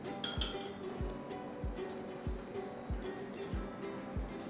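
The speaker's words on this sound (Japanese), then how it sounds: "まずは味噌を溶かしました。" Miso paste being stirred into soup in a pot, with a steady series of light metallic clinks as a utensil taps the pot about every half second, close and moderately quiet.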